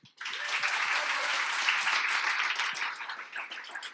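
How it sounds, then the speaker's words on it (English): An audience at a coding bootcamp demo day in London breaks into a big round of applause, starting abruptly and holding as a full, steady clatter of many hands before easing slightly. "Please welcome them with a big round of applause."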